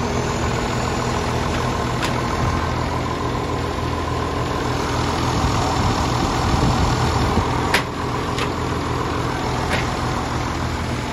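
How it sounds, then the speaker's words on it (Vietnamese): A used Iseki tractor engine idles steadily and fairly close, a smooth continuous diesel-like drone with a few faint clicks over eleven seconds, no voices. "Máy nổ rất là êm."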